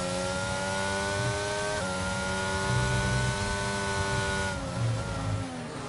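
Race car engines in a sim racing sprint race at Imola hold a steady high whine with shifting pitch, one car rising and changing gear as others drone alongside, loud and continuous.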